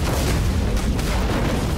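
Deep, loud booms from the house cannon in Killing Floor 2 roll on continuously, a thick rumbling barrage of explosive low-end thuds.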